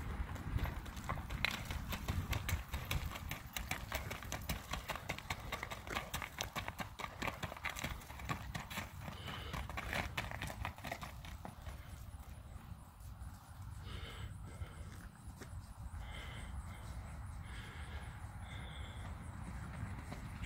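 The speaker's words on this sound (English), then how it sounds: "You can't make this horse not gait." A natural gaited horse fitted with flat keg shoes moves steadily, its even, rapid hoofbeats clip-clopping continuously over a low rumble of background noise, with no talking.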